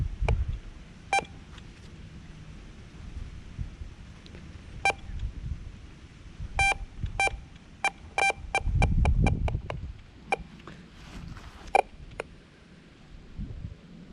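A metal detector sweeping over a yard gives short, high electronic beeps, scattered at first and then in a quick run of repeated pulses, over low rumbling handling noise and faint background.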